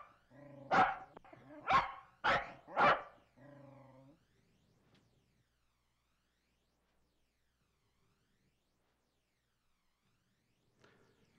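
A dog lets out four loud, sharp barks in quick succession followed by a short whine, then a long near-silence with a faint sound at the very end.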